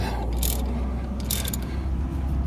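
A ratchet turns a 14mm 12-point socket to tighten a nut during a 50-hour service on an RK74, giving two short bursts of clicking close up over a low steady hum.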